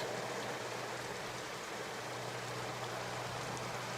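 Steady, even rain hisses continuously, a soft wash of noise with no voices.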